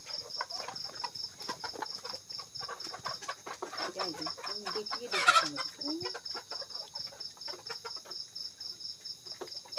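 Free-range country chickens on a village farm cluck in repeated short calls with a rooster-like squawk midway, over a steady high chirring of insects and faint background voices.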